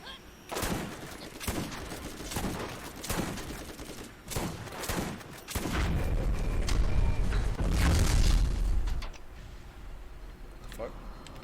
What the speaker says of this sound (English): let me try the shotgun again